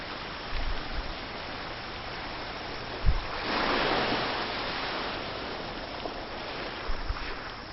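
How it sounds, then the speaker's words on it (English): Bilge pumps push seawater into 1,000-litre containers, a steady broadband rush of pouring and splashing water with a brief thump, swelling louder in the middle and continuing alone without voices. "We're using two bilge pumps."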